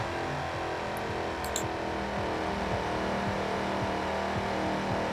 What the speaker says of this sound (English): let go of the handbrake and watch the RPMs just jump up like that